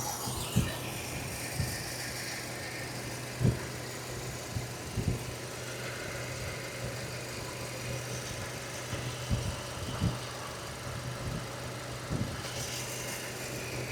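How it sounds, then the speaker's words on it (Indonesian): A steady low mechanical hum of a running 2011 Mercedes-Benz W212 E250 engine, with faint periodic ticks and clicks over it, close and continuous with no talk. "Gua kasih lo waktu beberapa detik gua dengerin ini mesin."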